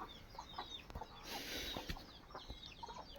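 Chickens cluck softly at a farm in the evening, scattered short calls over a steady background hiss, with a few sharp knocks and brief rustles.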